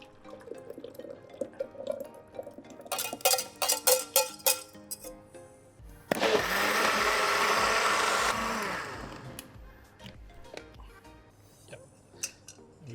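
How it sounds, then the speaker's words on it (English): A blender whirs steadily for about two seconds, blending a watalappam spice mix for a Sri Lankan spiced flan, set between scattered kitchen clinks and taps. "I'm going to blend this mix."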